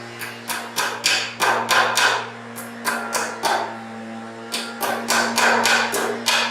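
Hammer blows drive staples over electrical wire while an outlet receptacle is wired, coming in quick clustered bursts of sharp strikes with short pauses between groups, close and loud over a steady low hum.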